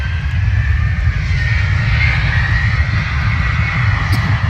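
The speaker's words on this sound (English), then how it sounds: "TUI 737 on its way, I think it's a Max." A TUI Boeing 737 Max taxis past at Bristol Airport, its engines a loud, steady, low roar with a faint whine riding above it throughout.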